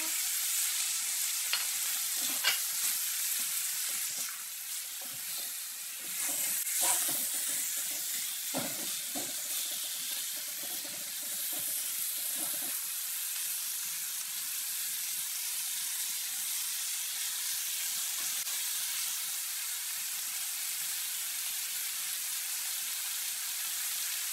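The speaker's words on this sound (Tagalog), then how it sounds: "gisa natin ang ating pork" Pork, pig's feet for ginisang monggo with eggplant, sautéing in a pan gives a steady, close hiss and crackle throughout, broken by a few short scrapes and clinks of stirring, with no voices.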